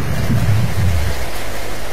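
Heavy downpour over the Bojong Kokosan area with thunder, a dense steady roar of rain and a deep low rumble swelling in the first half before easing, loud and continuous throughout with no voices.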